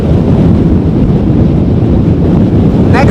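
Strong storm wind buffets the microphone at an Amsterdam Schiphol plane-spotting spot, a loud, continuous low roar with no break, heard alone.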